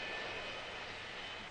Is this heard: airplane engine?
yes